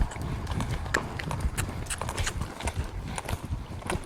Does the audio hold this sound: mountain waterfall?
no